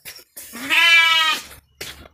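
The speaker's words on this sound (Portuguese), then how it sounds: "E as ovelhas já estão chegando aí já, viu?" A sheep arriving with its flock lets out one loud, close, drawn-out bleat, followed by a short bit of breathy noise.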